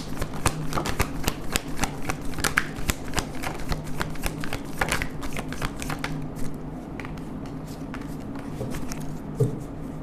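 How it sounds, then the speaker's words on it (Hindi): A deck of tarot cards being shuffled by hand, with a fast rapid run of crisp riffling clicks for several seconds before thinning into a few scattered taps, close and fairly loud, with no talk. "एक ही शफल करेंगे हमेशा की तरह, जिस भी कार्ड को आना है उसी शफल में आएगा।"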